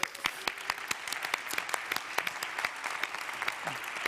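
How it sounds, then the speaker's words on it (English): A conference audience at an EU water innovation event claps steadily, with many distinct hand claps forming moderate, sustained applause in a large room and no voices over it. "Let's give them a round of applause"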